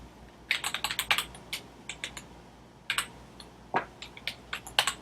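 Keys on a computer keyboard are typed in two quick bursts of clicks with a pause between, close and clear, with no voices.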